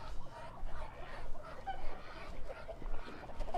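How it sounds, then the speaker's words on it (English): Roosters on a small farm, one of them white, calling and clucking around the yard amid steady outdoor background noise, with voices speaking nearby. "if you walk around the funny farm, you will see that we do have roosters"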